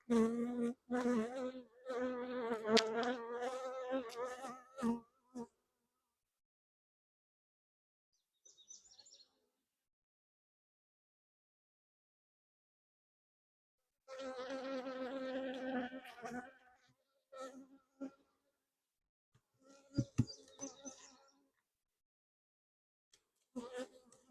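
Honeybees from a swarm caught in May buzz during a hive inspection, in loud close bursts separated by stretches of near silence.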